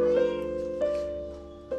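A cat meows at an old age home in Kathmandu, with two or three close, tonal meows in quick succession, clear and alone.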